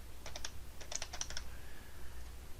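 Fingers type a short burst on a computer keyboard, quick clicking keystrokes in two close clusters over a low steady hum, then a pause.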